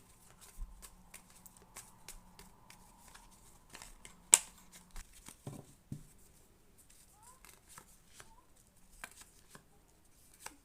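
A deck of cards riffled and shuffled in short rustling bursts, with scattered taps and a sharp click, fairly quiet and close.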